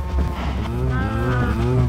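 Cows moo in the video game Minecraft, one long, loud, continuous bellowing call about two seconds long with no talking.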